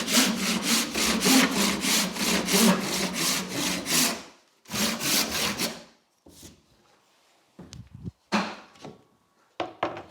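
Waste is cut off a wooden architrave with a handsaw: a close run of quick, even rasping strokes, a brief pause, then a few more strokes ending in scattered knocks and rustles.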